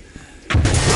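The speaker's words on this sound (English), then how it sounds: "Explosions." Sudden loud explosion in the multiplayer shooter Soldier of Fortune 2, quiet game ambience then a sharp heavy blast that roars on close and full for the rest of the moment.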